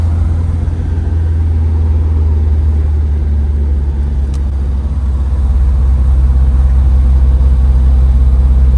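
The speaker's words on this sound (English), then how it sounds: "we're in third gear with two adult guys that are both in pretty good shape riding, and it goes up these hills effortlessly" A 1972 Volvo P1800E with a four-speed gearbox climbs a hill in third gear carrying two adults, a loud, steady low engine drone and road rumble heard from inside the car, with no talk.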